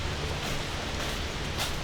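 A roaring waterfall in Washington pushes out a heavy volume of water, a steady dense broadband rush that holds constant and close with no talk over it.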